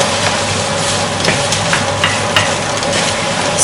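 Vegetables with pepper and salt sizzle loudly in a pan over a hard flame for a vegetarian risotto, a dense continuous fry with scraping stirs close by and no voices.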